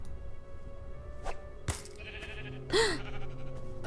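Sheep bleating from the Minecraft Story Mode video game, a single short wavering bleat heard clearly over a steady background hum with a couple of brief clicks before it.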